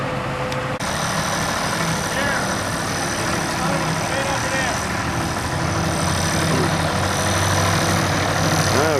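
A Clark tractor engine runs at a tractor show, a steady, loud, low diesel rumble with mechanical clatter throughout, with voices murmuring in the background.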